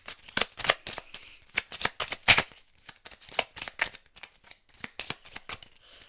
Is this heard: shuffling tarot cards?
yes